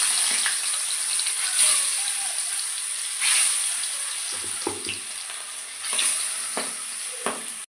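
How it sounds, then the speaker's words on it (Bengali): Fish going into hot oil in a home kitchen, a soft steady sizzle with scattered clinks and stirring knocks, fairly quiet and without talk. "তেল গরম হয়ে গেছে, এখানে মাছগুলো দিয়ে দিব।"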